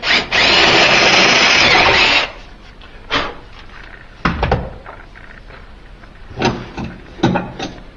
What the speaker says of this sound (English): we have to drill here a little bit.